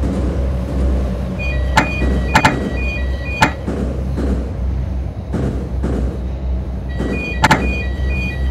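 Metro train doors slide shut on a Moscow-area line, with several sharp mechanical clacks and thuds standing out against the loud, constant rumble of the carriage.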